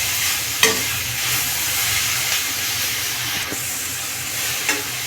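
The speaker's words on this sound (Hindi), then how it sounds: "इसे हल्का सा फ्राई कर लेंगे चला चला के।" Ingredients stir-fry in a pan over a high gas flame with a steady, loud sizzle and hiss. A utensil scrapes or clinks against the pan a few times.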